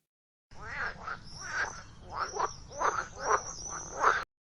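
A frog croaks in a run of about eight rhythmic, raspy pulses, clear and close with no talking over it.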